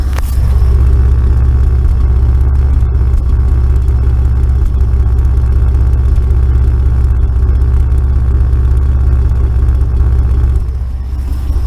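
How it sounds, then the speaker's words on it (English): A 1991 Oldsmobile Cutlass Ciera engine with freshly replaced fuel injectors runs steadily at close range, a loud low rumble with faint irregular pops from the exhaust every so often. "See if we still have popping out the exhaust here."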